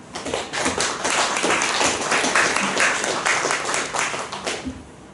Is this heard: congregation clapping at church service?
yes